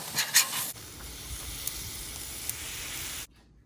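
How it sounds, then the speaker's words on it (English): Steak sizzling on a Blackstone griddle, a loud, steady, close hiss after a brief burst of crackle, cutting off abruptly near the end. "Cook up some steak."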